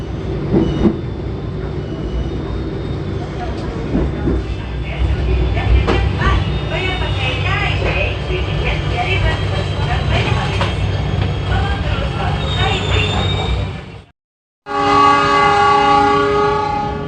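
Pangrango passenger train pulling away from Karangtengah station on the Bogor–Sukabumi line, heard from onboard: a steady loud rumble of wheels and rolling stock, with a horn blast near the end after a brief cut.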